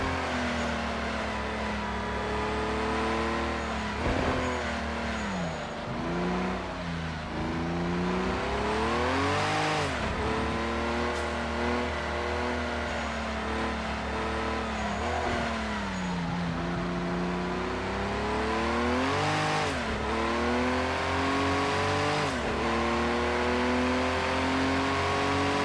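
A historic Porsche race car in Project Cars 2 during a practice session, its engine howling close and loud through repeated rising revs and quick gear changes, with deep dips on lifting off, no talking.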